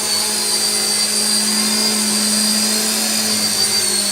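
A small JJR RC helicopter hovers and comes in to land nearby with a steady, high-pitched electric whine and a constant buzzing drone that never changes. No voices are heard.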